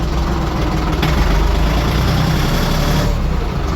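A small tractor engine of 24 to 40 horsepower runs steadily and loudly nearby, a rough continuous rumble with no speech over it.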